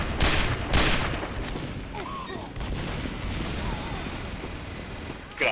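Gunfire from the Team Fortress 2 video game, bursts of shots and booms in a busy firefight, loud at the start then continuing steadily under game noise.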